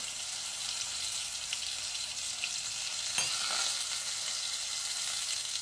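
Water-soaked dried curry leaves dropped into hot oil for an aloo matar curry, giving a steady, bright sizzle and crackle that keeps going without a break, with a short sharp spatter partway through.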